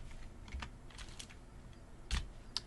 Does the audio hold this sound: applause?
no